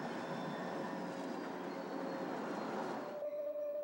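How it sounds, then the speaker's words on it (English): Canadian National haulage train rolling along the Burlington Northern Chicago Racetrack line, a steady broad rumble of rail cars with faint wheel whine, sustained and fairly close, easing slightly near the end as a tonal squeal rises. "The Canadian National trains on the racetrack are haulage trains."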